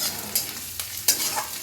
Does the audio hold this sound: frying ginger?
yes